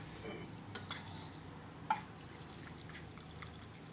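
Tea premix is stirred in a pot, with a few sharp metallic clinks and scrapes early on, then quiet faint swishing against a low, soft background.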